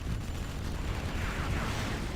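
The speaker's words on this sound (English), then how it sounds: "let's see some explosions, huh?" Artillery and nuke explosions in the video game C&C Generals Zero Hour form a dense, continuous booming rumble with crackling debris, loud and unbroken for the whole stretch.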